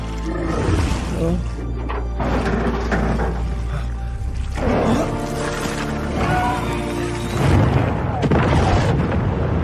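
A loud, rumbling boom with heavy low-end roar and crackling bursts, sustained over music-like tones, typical of a big cinematic explosion, from a Venom film.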